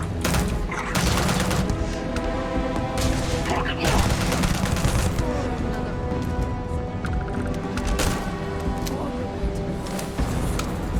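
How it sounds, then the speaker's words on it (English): A revolver fires repeated gunshots in the space video game Starfield, a dense run of sharp loud blasts and booms amid game combat noise, with a player talking over it. "I clicked twice and it fucking shot all 6 bullets"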